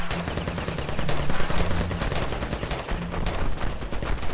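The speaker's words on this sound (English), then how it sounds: "What I presume to be like an APC or a MG just starts shooting." Sustained machine gun fire from an armored personnel carrier in the battlefield video game Ravenfield, a loud, dense burst of rapid shots running through the whole stretch with no talk.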